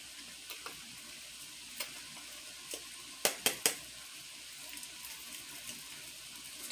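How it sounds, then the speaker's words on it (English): Chopped onions are stirred into a seafood boil pot, a soft continuous sizzle with a few brief scraping clinks of a utensil, faint and close with no talking. "We're gonna put some chopped onions in here, 2 tablespoons."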